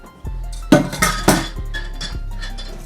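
Boiled vinegar infused with fresh herbs, peppercorns and thyme is strained into jars for pickled peppers, producing a series of close metallic and glassy clinks and clatters from a strainer and jars, with no talk.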